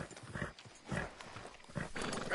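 A horse in the video game Red Dead Redemption 2 walks, its hooves clip-clopping in a quiet, uneven rhythm of soft footfalls at moderate distance.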